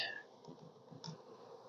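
Faint, steady buzzing of many honeybees close by, about half a cup of bees near a hive, a low humming drone with small clicks and shifts.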